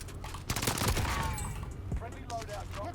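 Rapid gunfire from a shooter video game crackles in quick bursts, fairly faint and mixed with voices talking over the action.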